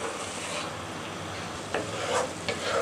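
Spoon scraping steadily through boiling sugar syrup with cardamom in a pan, a continuous bubbling hiss with a few sharper scrapes near the end, close and fairly loud.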